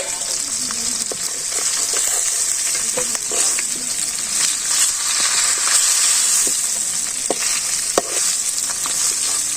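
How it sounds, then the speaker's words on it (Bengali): Fish fries crisp in a pan with a loud, steady sizzle, a close hiss throughout, broken by occasional sharp pops and clicks of stirring. "এই যে মাছটা আমি কড়া করে বাইরে নিচ্ছি"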